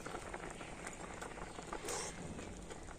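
Semai vermicelli boiling in a pot of milk for payesh sweetened with batasha, a steady close bubbling simmer with a brief louder burst of bubbles near the end.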